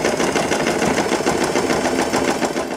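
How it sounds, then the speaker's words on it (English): Sewing machine stitching down the center of a fabric butterfly bow, a loud, close, continuous whirring rattle with fast even pulses throughout and no voices. "shift your needle to the left side and you can sew it."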